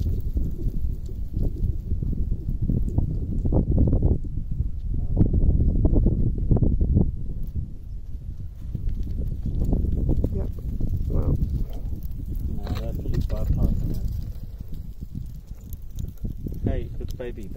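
Goats moving close around hikers on a mountain trail near Chamonix, heard as rustling, shuffling hoof steps and scattered bleats, close and busy throughout, mixed with people talking.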